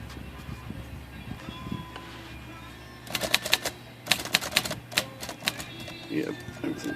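A Royal typewriter, just repaired after a bent link left a type bar sticking up, is struck key by key in several sharp, loud bursts of clacks over a steady low background hum.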